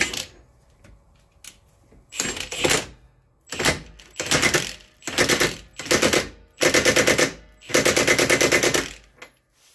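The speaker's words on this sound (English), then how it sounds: "I'm going to use an impact gun, but you should never want to use an impact gun to tighten it" Impact gun on its lowest setting snugging a rear shock bolt on a Ford Escape, firing in a series of loud rattling bursts that grow longer toward the end, with short pauses between, close and alone.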